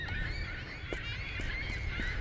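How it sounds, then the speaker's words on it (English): Restless geese honking in The Lightkeeper, with several short honks at an irregular rhythm over a steady ambient bed, moderately distant and not loud. "Yeah, again the birds are restless."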